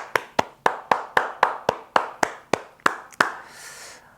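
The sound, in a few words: congregation applause celebrating Christmas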